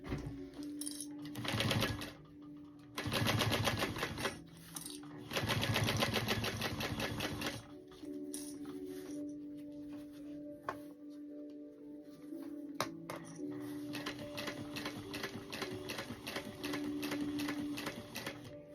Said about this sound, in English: I do the top stitch on the top and the bottom at 1/4 of an inch